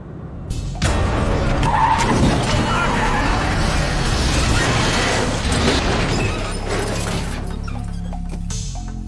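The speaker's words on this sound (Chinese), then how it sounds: "他猛踩油门，径直冲了过去。" A car in a suspense thriller film scene accelerates hard: a loud, sustained roaring rush with skidding tires swells in after a quiet start and slowly fades away, leaving a low lingering tone.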